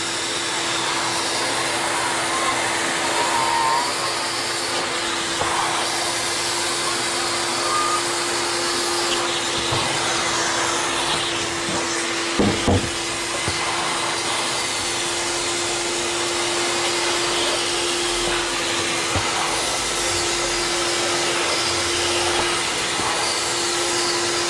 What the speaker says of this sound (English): They also make vacuum attachments where you can vacuum the excess water away.